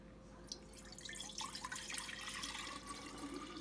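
Homemade switchel ginger drink is poured back into a container, a soft trickling and splashing of liquid that builds after the first second and continues steadily at close range.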